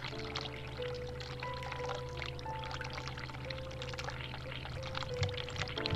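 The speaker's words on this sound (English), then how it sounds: "The water is still running. No, not the sink. Hot water tap." A hot water tap running in the video game The Cat Lady, a steady quiet pour of water lasting throughout with a faint tonal hum beneath.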